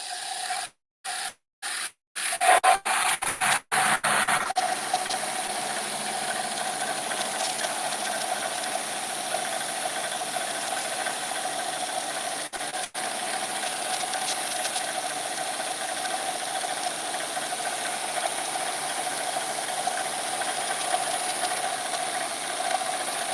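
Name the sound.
belt grinder shaping metal on an 80 grit belt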